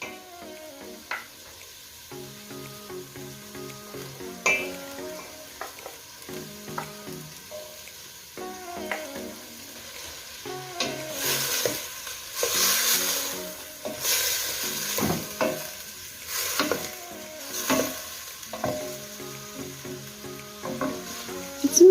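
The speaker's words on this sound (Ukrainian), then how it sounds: "Обсмажуємо морку з цибулею і з м'ясом хвилин 5 помішуючи" Meat, carrot and onion sizzle and crackle in a hot pot, with occasional stirring scrapes and a bright burst of frying midway.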